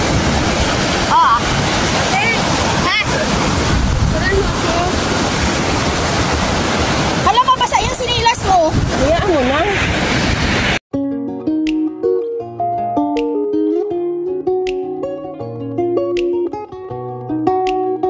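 Sea waves at Acapulco beach make a steady, loud broadband wash of surf with some wind for about eleven seconds while people chat nearby, then music takes over for the rest.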